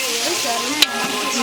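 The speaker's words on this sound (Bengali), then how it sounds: "আলুগুলো একটু লাল লাল করে ভেজে নিব" Potatoes frying in hot oil until reddish, a steady close sizzle throughout with one brief clack of a stirring utensil midway.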